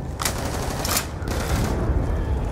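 Rapid, loud, continuous gunfire from Call of Duty Black Ops 2 Zombies on the Nuketown map, with sustained automatic bursts and a few sharper peaks.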